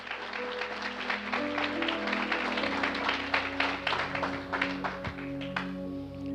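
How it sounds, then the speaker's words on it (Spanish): A church congregation applauds during a Spanish-language Christian sermon, with soft, quick clapping spread through the room under a sustained keyboard or organ chord and faint crowd noise. "Aplauda la grandeza del Señor en esta mañana."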